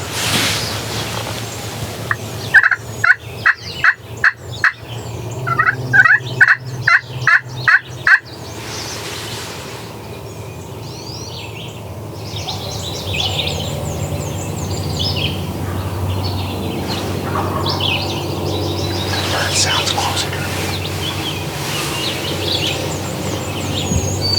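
Wild turkey toms gobbling during a spring turkey hunt, a loud close burst of repeated rattling gobbles in the first seconds, followed by quieter outdoor ambience with distant birdsong and faint calls.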